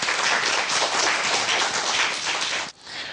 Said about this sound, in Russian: Ну, под аплодисменты, конечно